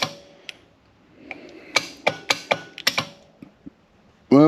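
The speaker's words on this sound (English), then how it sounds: "solenoids are hitting, motor's not turning." A Warn 8274 winch with a fault: its solenoids click in short, sharp bursts while the motor stays still, about a dozen distinct clicks at an uneven rhythm, close and fairly loud, with no voices.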